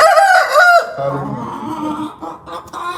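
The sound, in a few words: hen clucking before laying an egg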